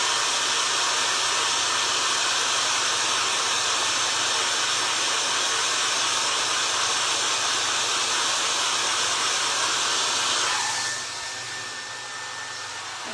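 A hair dryer blows steadily on a paper mache mouse, a loud continuous whooshing hiss that runs unbroken for about ten seconds before it is switched off and quickly dies away.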